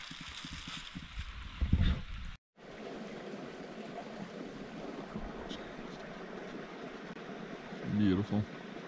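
A flowing creek in Ferne Clyffe State Park gives a faint, steady wash of water, with people talking over it and a couple of brief louder low bumps.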